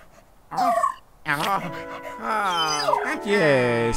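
A cartoon dog in Luigi's Mansion 3 yips, whimpers and pants in a series of high, close, bouncy vocal bursts, with a brief spoken word mixed in.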